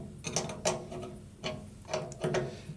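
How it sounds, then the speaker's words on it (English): An 11/16 open end wrench snugs down a nut on a cryostat and compressor setup, giving a few separate metallic clicks and scrapes spaced irregularly, close and fairly quiet. "finish it off with an 11/16 open end wrench"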